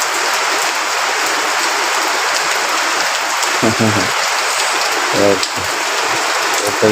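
Heavy night rain in Fatikchhari, a loud continuous hiss of downpour close at hand, with a few short bursts of someone speaking over it.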